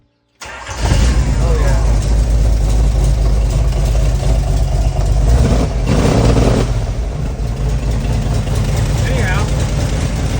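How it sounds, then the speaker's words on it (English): A Jeep CJ5 with dual exhaust cranks and fires after a brief silence, then settles into a loud, deep, rumbling idle that holds steady, with someone speaking briefly over the engine. "Let's crank this thing up. I'll let you hear it because it sounds like a V8."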